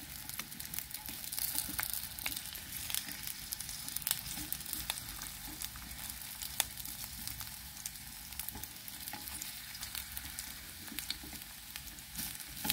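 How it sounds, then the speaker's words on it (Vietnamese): Green banana slices pan-fry in oil, giving a steady, moderately quiet sizzle with scattered crackles and pops throughout, close up and with no talking. "Có mấy cái miếng nó dính với nhau thì mình gỡ ra để mình chiên cho nó vàng đều á."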